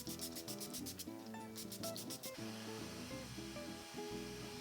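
KOkie Refresh Hydrating Setting Mist spritzed onto a face, about a dozen quick hissy pumps in two rapid bursts over soft background music, which carries on alone afterward.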